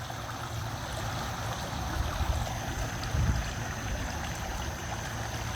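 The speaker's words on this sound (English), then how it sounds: "feeling so grateful for the sound of this water" Flowing water runs in a steady, gentle stream, a soft continuous trickle and burble with slight swells, heard alone without speech.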